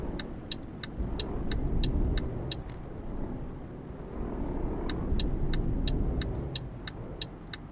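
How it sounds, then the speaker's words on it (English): A heavy truck engine drones low and steady while driving in Euro Truck Simulator 2, with a regular ticking indicator clicking above the rumble and the engine note swelling slightly as it pulls. "I'm driving a big truck."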